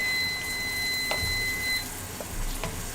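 A kitchen timer gives a steady two-tone electronic beep that stops partway through, over the soft sizzle of cooking on the stove while chicken marsala, mushroom risotto and roasted asparagus are made.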